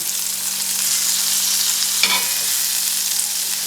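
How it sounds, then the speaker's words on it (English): Swedish meatballs fry in batches in a hot pan, giving a steady close sizzle with a brief louder crackle midway and a low background hum. "I'm going to fry a number of these at a time"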